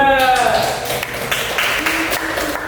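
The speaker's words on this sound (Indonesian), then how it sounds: "Tepuk tangan untuk kelompok 2." Classroom students clap for a group after their flower-pot presentation, a fairly loud burst of applause with talk over it.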